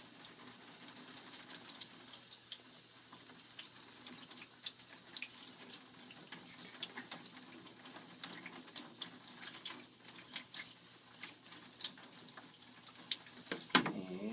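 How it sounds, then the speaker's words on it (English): Tap water running steadily to rinse bleach off a Fuji FP-100C negative: a soft, continuous splashing hiss with faint drips, heard alone and close. "So you clear your negative, or wash your negative off. Get all that bleach off of there."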